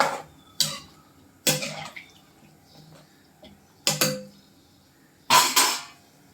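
A spoon stirs sambar in a metal pot after tamarind pulp and jaggery are added, producing four separate bursts of close clinking and scraping with quiet pauses between them.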